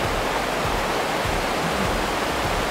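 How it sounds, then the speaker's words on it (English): A river in Pitlochry rushes along in a steady, loud broadband wash, continuous and close, with no breaks and no voices over it. "this is the river."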